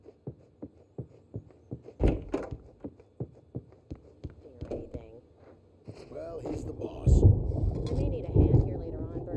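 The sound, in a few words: thunderstorm in the video game Alan Wake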